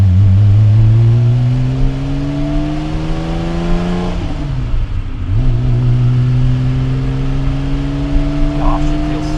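A Porsche 911SC coupe drives along a road, its engine note climbing steadily through the gears with a brief dip between shifts, loud and close from inside the car.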